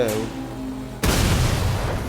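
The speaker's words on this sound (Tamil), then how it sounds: "அதுவும் வெடிஞ்சு ட்ரோனும் காலி" A drone blows up in the video game Watch Dogs: Legion, with a low tonal engine hum suddenly broken by a loud, sharp blast that rumbles on as a dense roar.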